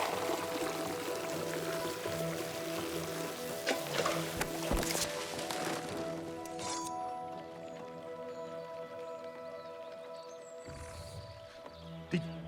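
Water pouring steadily in It Takes Two, a continuous liquid stream with background game music, ending abruptly near the end.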